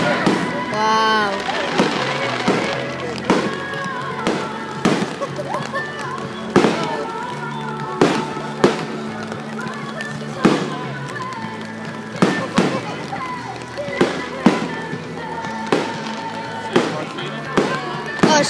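A rapid barrage of small fireworks from a 4th of July show pops and cracks in quick succession, with whistling rising shells at the start and people reacting in the background.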